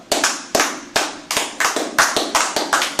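A church congregation claps together in a steady, close, loud rhythm of sharp hand claps, about two or three per second.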